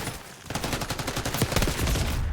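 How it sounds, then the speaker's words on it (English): Rapid automatic gunfire in Black Ops 6 rattles off in fast, evenly spaced bursts, starting after a brief pause and growing denser and louder toward the end. "As soon as it's 30 seconds, we're going to start firing"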